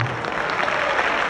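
Audience applause at a French-language comedy stand-up show, a dense, steady wash of clapping from a crowd filling the whole short stretch with no voice on top.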